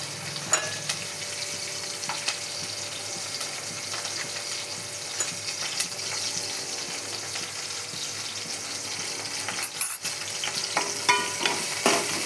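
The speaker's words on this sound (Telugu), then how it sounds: "కరివేపాకు వేసుకోవాలి" Curry leaves frying in hot oil give a steady close sizzle with scattered crackles and pops throughout, and a few sharper spits toward the end, with no voices.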